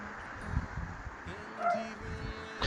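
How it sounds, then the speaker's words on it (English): A small, loud dog indoors gives a few yips and whimpering whines, high and tonal, mixed with light rustling and a faint voice in the background. "And there goes my dog."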